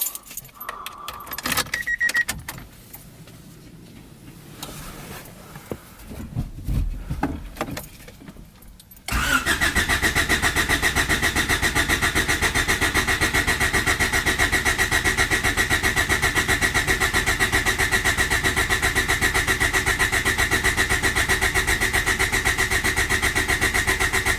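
A turbocharged Honda Civic engine is cranked after some faint jangling and handling noises, catches around nine seconds in, then holds a loud, steady idle close by for the rest of the time.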